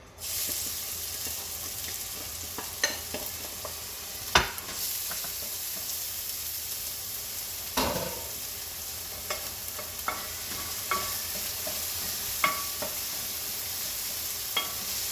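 Diced medium Spanish onion fries in extra virgin olive oil in a pan, giving a steady, soft sizzle with occasional scrapes and clinks of stirring, and no talking.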